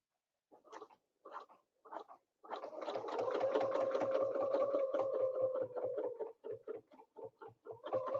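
A sewing machine quilting a stitch-in-the-ditch line: a few short stitch bursts, then a long steady run of rapid rhythmic needle clatter and motor whir, slowing into shorter bursts near the end, close and alone.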